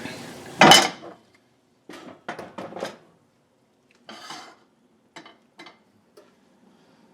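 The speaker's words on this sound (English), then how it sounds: "let me get this skillet out of my way here" A cast iron skillet is moved about on a stovetop, giving one loud metallic clank followed by several quieter scrapes and knocks of metal against the stove grate, with short pauses between them.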